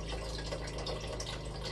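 Beef broth is poured into a pot for hillbilly stew, a soft and steady trickling splash of liquid that carries on faintly throughout without a break.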